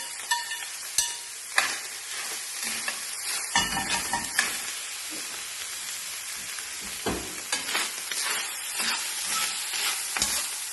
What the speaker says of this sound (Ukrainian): перекладаємо туди у нас у фарш і смажимо далі